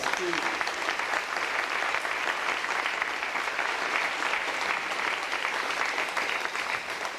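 Audience applause for a group of readers at an evening event fills the space as a steady, dense wash of clapping from many hands, sustained and even throughout with no voices over it.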